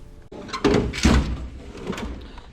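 A drawer on a Snap-On toolbox in a home shop slides open with a rumbling metallic roll, with a couple of clunks as it travels and rattling tools inside, close and fairly loud.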